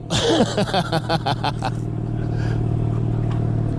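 A vehicle engine revs hard in a few quick bursts up close, then settles into a steady loud idle rumble while voices talk over it.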